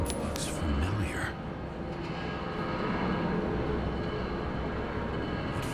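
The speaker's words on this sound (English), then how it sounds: "we're taking the train after all" A train rumbles and rattles steadily in a cyberpunk video game, a continuous low mechanical drone with faint higher tones over it, with no break for several seconds.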